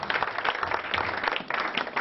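Church congregation applauding in acclamation during an evening service, an uneven burst of many hands clapping in loose clusters, moderately loud and close, continuing without speech.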